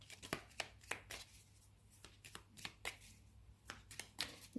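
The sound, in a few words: shuffling and drawing tarot cards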